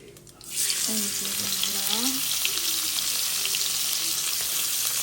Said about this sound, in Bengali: মাংস ভাজার জন্য আর একটু ঘি দিয়ে দিচ্ছি